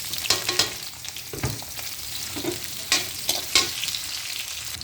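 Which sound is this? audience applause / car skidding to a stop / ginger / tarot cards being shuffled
ginger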